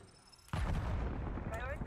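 A frag grenade in Black Ops 6 goes off with a sudden loud boom about half a second in, followed by a rumbling roar that lingers; a voice is faintly present.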